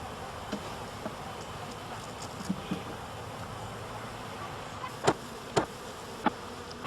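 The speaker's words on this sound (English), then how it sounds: "the bees are shaken rather than brushed into the funnel" Dense buzzing of many honeybees being shaken from frames into a funnel fills the air, punctuated by a few sharp knocks and thumps near the end.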